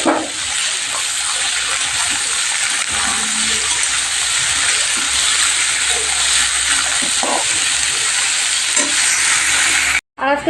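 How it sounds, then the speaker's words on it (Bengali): Frying food in a pan with a chili, giving a steady, close, continuous sizzle that holds throughout, with a brief cutout just before the end. "একটা লঙ্কা দিয়ে এটা ভাজা করবো"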